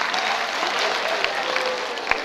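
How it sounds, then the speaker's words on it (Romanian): Audience applause at a school freshmen's ball, a steady wash of clapping throughout with a few sharper individual claps standing out near the end. "Aplauze pentru încurajare, totuși!"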